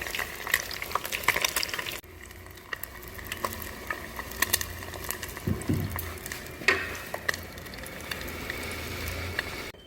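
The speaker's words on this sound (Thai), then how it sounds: "เขาว่าต้องทอดสองรอบ" Food frying twice in hot oil in a home kitchen, with a steady crackling sizzle running throughout, joined by occasional clinks and stirring scrapes from utensils; no one talks.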